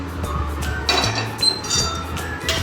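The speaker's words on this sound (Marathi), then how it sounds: "आता आपण आणखी गॅसवर कढई ठेवून घेऊया." A metal kadhai (iron wok) set down on a gas stove, giving a few sharp metallic clinks and knocks over a low hum, close and moderately loud.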